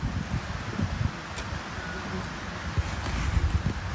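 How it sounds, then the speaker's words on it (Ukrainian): Wind gusts over an open outdoor field on a windy day, a steady broadband rush with low rumbling buffets on the microphone, persisting throughout without clear speech. "Погода така досить вітряна."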